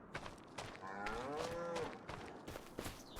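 Cows in Farming Simulator 25 on an American farm, mooing in a long drawn-out call amid scattered shorter farm-animal noises, fairly close and clear with no talk over them.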